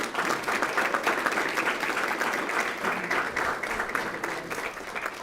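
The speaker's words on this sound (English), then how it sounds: "A round of applause," Applause at a school board meeting for the Weslaco High School Panther football team, a steady, fairly loud round of clapping from a room of people that tapers slightly toward the end.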